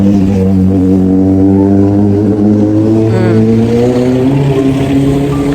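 Motorcycle riding past on a beachside street, its engine note loud and close, rising and falling in pitch as it goes by.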